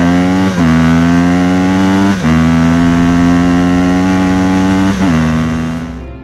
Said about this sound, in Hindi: तभी बाबा और बुल्ली बाइक लेकर वहाँ पर पहुँचते हैं।